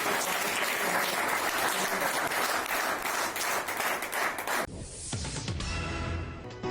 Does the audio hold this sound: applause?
yes